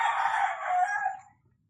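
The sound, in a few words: rooster crowing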